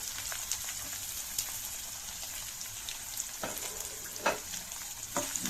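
Chopped onion frying in oil for a raw banana poriyal gives a soft, even sizzle, with a few sharper scrapes and clicks from stirring toward the end.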